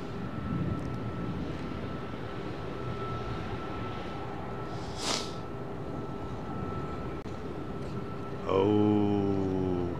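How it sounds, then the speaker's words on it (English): An Airbus A321 freighter departs runway 09R at London Heathrow, a steady distant jet roar that carries through, with a brief whoosh midway and a loud tonal hum starting near the end. "A321 freighter."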